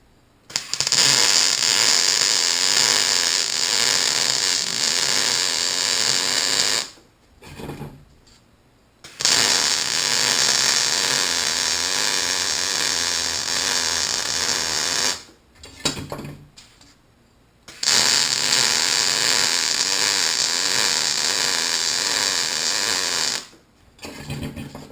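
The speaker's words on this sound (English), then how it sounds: "so we'll go ahead and weld this guy out here." Welding on handrail repair parts, a steady loud crackling hiss in three long runs of several seconds each, broken by short pauses with faint handling noises between them.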